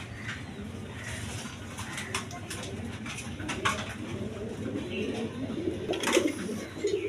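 Lahori pigeons, a yellow pair, coo softly and repeatedly at close range, their low throaty calls overlapping against a faint background of rustling and light patter.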